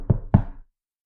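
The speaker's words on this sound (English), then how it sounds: "there was a knock at the door." Two firm knocks on a door in a narrated children's story, evenly spaced and close, then silence.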